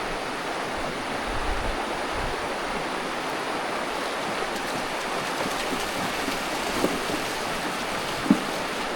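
River water rushes and flows steadily as horses are led across, a loud, continuous broadband wash with a few faint splashes near the end.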